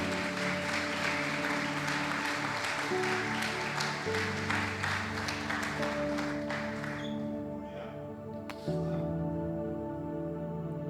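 Church congregation applauding together during a sermon, a steady dense wash of clapping that fades and thins toward the end, with voices mixed in underneath.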